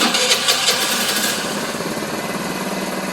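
A 50cc Chinese scooter engine fires up and settles into a rapid, buzzing idle, loud and close, with a rough revving start easing into a steady putter, and no talking.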